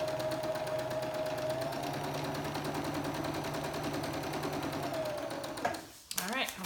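A sewing machine stitching quilt fabric, a fast steady mechanical whir and needle chatter running close and loud for several seconds before it stops, with a faint voice under it.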